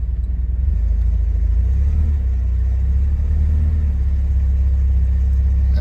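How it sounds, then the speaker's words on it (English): A 1973 Alfa Romeo Spider engine idles just after a cold start with a touch of throttle, a loud, steady low rumble close by, with no talking over it. "I'll give it just a little bit of gas."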